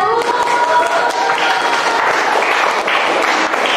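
A classroom of students claps after a group presentation in a guidance lesson about stopping bullying. The clapping is close and fairly loud and continues throughout, with voices mixed in.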